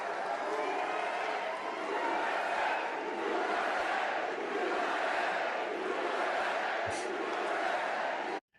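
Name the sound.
sampled crowd yelling USA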